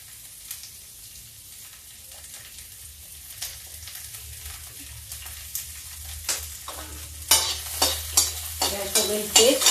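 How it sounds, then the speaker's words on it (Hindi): Fenugreek seeds and onion fry in hot oil, a soft sizzle growing louder as a spoon clatters and scrapes against the pan in quick strokes toward the end. "अब मेथी तड़क जाए, गैस कर देते तेल, इसी में डाल देते थोड़ा प्याज।"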